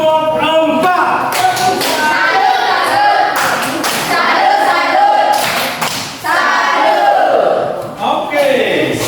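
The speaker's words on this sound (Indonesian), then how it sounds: "Tepuk salut kelompok 4." A classroom group performs a rhythmic patterned clap cheer for group 4, loud close bursts of hand claps in sequence mixed with children's shouted chanting voices.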